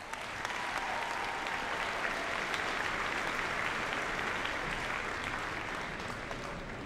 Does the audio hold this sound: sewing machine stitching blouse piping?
no